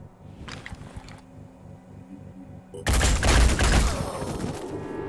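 Gunfire in the tactical strategy game Phoenix Point, a loud dense burst of shots that suddenly follows a quieter stretch of game ambience and continues to the end.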